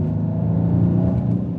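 Low, steady engine rumble with a mild rise in revs from a 2022 Mercedes GLC 63S AMG as it drops gears, continuous and close throughout with no talking.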